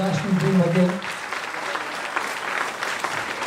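An audience claps for the cricketer Siraj at a mentoring session: a voice speaks briefly, then a steady, moderately loud round of applause carries on alone.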